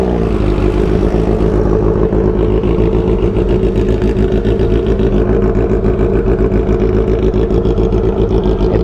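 A big bike motorcycle exhaust rumbles loudly and steadily up close, muffled and damp after cold rain, with a deep idling throb and a few revs, no talking.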